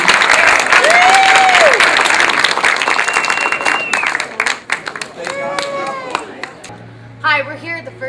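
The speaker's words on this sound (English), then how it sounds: "Big round of applause, everybody." A crowd applauds loudly after a Texas Chainsaw Massacre screening with Tobe Hooper at Texas Frightmare Weekend 2009, with dense clapping and shrill whistles, then the applause thins out toward the end as voices come through.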